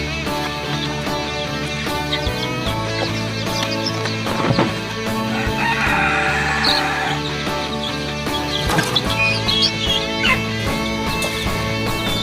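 Chicks mixed with turkeys on a farm fill the air with busy, overlapping peeps and clucks, close by and continuous, with occasional louder calls and knocks.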